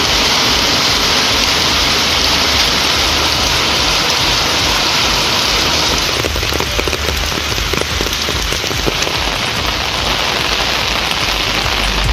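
Steady rain pours down in Velankanni, Tamil Nadu, a dense, loud, continuous hiss of drops on surfaces that barely changes, with a slightly rougher patter midway and no voices.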